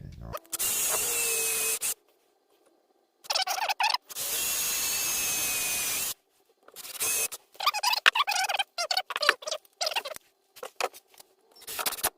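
A cordless drill with a weak battery whirs loudly in long bursts, then stops and starts in quick, choppy pulses as it bores through wood for a bench seat.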